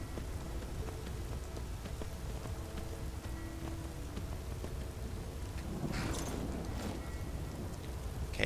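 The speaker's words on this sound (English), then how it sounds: "the acid rain sure looks pretty" Steady acid rain falls in the video game Skyrim, a dense continuous patter on surfaces with a faint low rumble and a brief swell of heavier spatter near the end.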